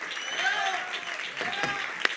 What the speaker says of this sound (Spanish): Fuerte aplauso para ellos, por Dios.